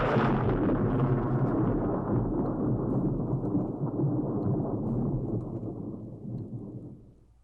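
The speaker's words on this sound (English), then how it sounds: "how anything gets to sleep at night when lightning is this loud and bright," Loud, close thunder from a lightning strike rolls and rumbles continuously, then slowly fades out over the final seconds, with no talk.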